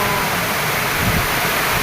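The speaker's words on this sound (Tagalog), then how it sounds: "Lakas ng ulan." Heavy rain pouring down, a dense, loud, unbroken hiss that covers everything for the short stretch.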